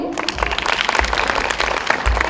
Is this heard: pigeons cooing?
no